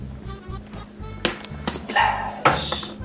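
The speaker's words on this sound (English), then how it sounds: "Now it's time to have some more fun in the kitchen, stirring macaroni." A spoon stirs macaroni in a kitchen pot, giving a few irregular metallic clinks and scrapes up close, with no one talking.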